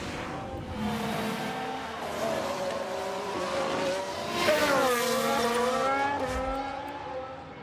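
An Aston Martin race car spins out in F1 Manager 22, its engine note rising and falling with tyre squeal and skidding as the car slews, loud and close throughout.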